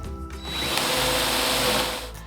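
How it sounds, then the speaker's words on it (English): A power drill drilling through wood whirs steadily at full speed for a couple of seconds, a loud mechanical grinding that rises in strain then winds down. "put it full blast and then drill it down slowly"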